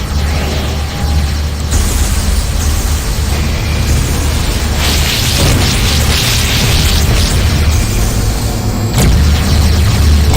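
Plasma rockets firing and exploding in the space combat game Tachyon: The Fringe, a loud, dense barrage of booming blasts and bursts rolling continuously over a low engine rumble, with sharper detonations standing out near the end.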